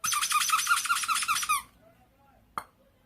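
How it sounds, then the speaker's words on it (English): A Pikachu squeaky toy squeezed repeatedly in rapid, loud, high-pitched squeaks for about a second and a half, then silence and one short final squeak. "This is the Pikachu that squeaks."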